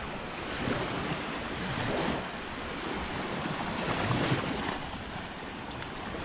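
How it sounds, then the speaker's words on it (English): Waves washing onto a quiet beach with a shallow reef in Grand Cayman, a steady broadband surf rush swelling and easing in soft surges, mixed with some wind noise and no voices. "It's a really nice spot at the beach."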